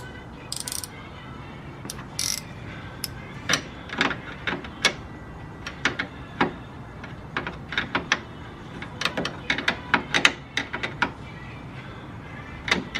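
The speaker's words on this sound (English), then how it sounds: "Then grab your wrench." A ratcheting wrench clicks in short, uneven bursts during installation of a Toyota Tacoma transmission oil cooler, with close mechanical clatter and a faint background hum.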